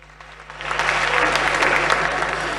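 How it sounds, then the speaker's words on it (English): An indoor audience at a radio station event in Ghana bursts into applause that builds quickly and then holds as steady, full clapping under a room hum. "A round of applause for yourselves."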